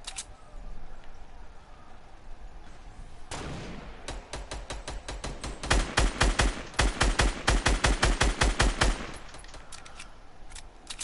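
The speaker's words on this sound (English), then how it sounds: "See the guy shooting." Rapid automatic gunfire from a PS4 shooter game, starting as scattered shots and building into dense, loud bursts of repeated reports that carry on for several seconds before trailing off.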